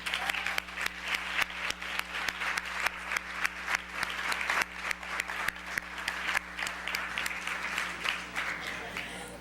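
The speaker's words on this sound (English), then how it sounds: "So please, let's give a big applause to Jack." A conference audience applauds Jack the Scribe after three days of work, a dense steady clatter of many hands clapping for about nine seconds at moderate distance, without a break.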